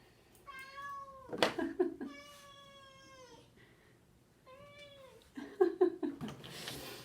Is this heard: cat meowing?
yes